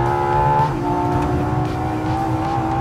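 A hypercar at wide open throttle on the Portimao circuit, its engine a loud, steady, close roar whose pitch drops briefly in a quick gear change and then holds strong.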